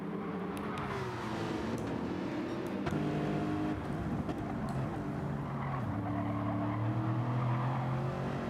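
A Porsche race car engine in a Gr.3 racing video game drones steadily and loudly throughout, with its pitch rising and falling through gear changes as the car defends its line, plus faint tire noise.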